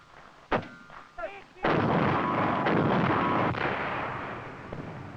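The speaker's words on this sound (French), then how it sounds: "Les engins philo-guidés à longue portée et les canons anti-chars ouvrent le feu à partir de positions masquées." Anti-tank guns opening fire in a 1972 Swiss army infantry combat training film: a sharp blast and brief voices, then a sudden heavy roaring report that rumbles on and slowly fades.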